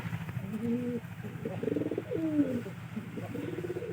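A pigeon coos near a dovecote, a series of soft, low, rolling calls repeated several times, close and clear over a faint background hum.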